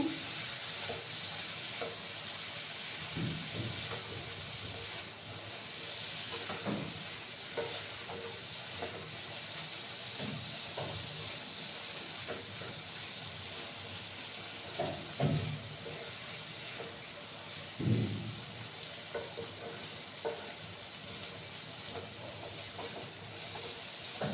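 Prawns and jackfruit seeds cook in a curry in a pan and are stirred with a spoon. A soft, steady sizzle runs throughout, with occasional scraping knocks of the spoon against the pan.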